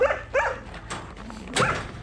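A dog at an animal shelter in Yakutia barks and yips several times in close, quick bursts with short gaps between them.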